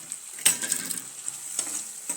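Crushed tomato gravy is stirred into a frying dhaba-style sev tamatar sabji, giving a steady high sizzle with a sharp spoon clatter near the start and another soft knock later.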